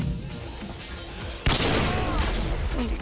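Gunfire erupts in the Modern Warfare 2 video game, a sudden loud burst of shots and crashing blasts about halfway through that stays dense and noisy to the end, following a quieter stretch of game ambience.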